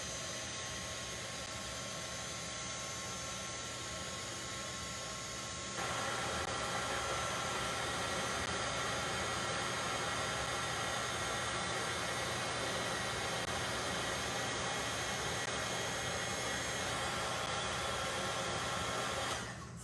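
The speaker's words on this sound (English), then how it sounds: "So we are drying this here in this step." A handheld dryer blows steadily on powder coating an upcycled craft box, a constant close whooshing roar that grows louder partway through and holds for about twenty seconds.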